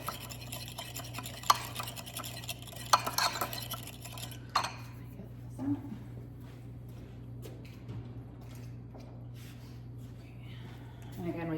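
A spoon clinks and scrapes in a bowl while a marinade with steak seasoning is mixed, giving a few sharp taps early on and softer stirring after that, with kitchen noise in the background.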